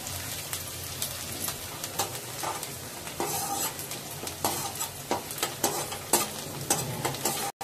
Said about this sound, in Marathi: कांदा आणि कढीपत्ता छान असं परतून घेऊया.